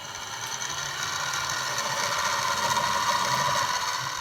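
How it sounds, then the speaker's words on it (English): A metal lathe countersinks one side of a rectangular steel handle part held in a four-jaw chuck, giving a steady mechanical hum with a faint grinding rasp. It is continuous and close, and no one speaks. "I'll also countersink this side"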